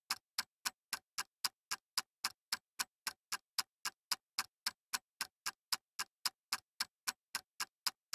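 Planted bomb in Call of Duty on the Carentan map, a steady, evenly spaced ticking of sharp clicks about three per second, crisp and isolated against silence.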